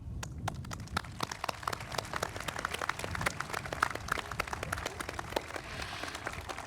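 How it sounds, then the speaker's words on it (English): Scattered applause from a modest group at a high school commencement, individual claps distinct and irregular, fairly steady throughout at moderate volume. "A huge round of applause to you all."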